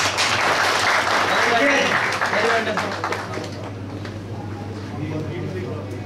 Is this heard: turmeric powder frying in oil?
no